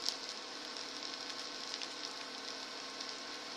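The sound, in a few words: onions browning (frying) in a pan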